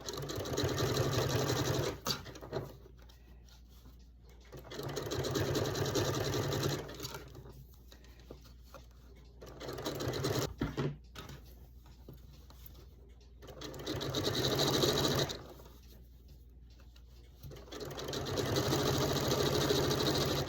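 A sewing machine zigzag-stitches fabric-wrapped rope into a blue and white rope bowl, running in several steady bursts separated by short pauses, close and fairly loud with no talking.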